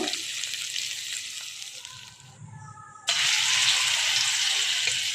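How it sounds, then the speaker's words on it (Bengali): Prawns fry in hot oil in a home kitchen, a loud steady sizzle that dips briefly before a sudden louder burst of crackling as more go into the pan, with low background clatter. "চিংড়ি মাছগুলো এবার ভেজে নেব"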